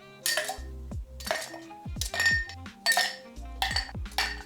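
Ice cubes drop into a mixing glass for a dry martini, several bright clinking bursts of glass and ice knocking together, close and loud, in quick uneven succession.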